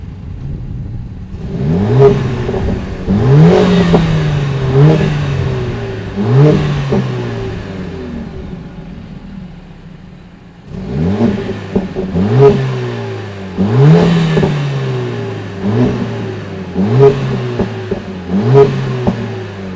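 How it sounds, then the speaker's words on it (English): A 2020 Mercedes CLA 45 AMG four-cylinder engine revs repeatedly in short bursts, rising and falling with a raspy, mid-pitched growl, loud and close, with a brief dip around the middle. "we're going to play some clips of me revving this car just so you guys can get an idea"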